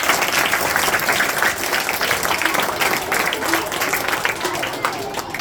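Audience applause for a children's play at a school annual day: dense, continuous clapping from a large crowd at steady loudness for the whole stretch.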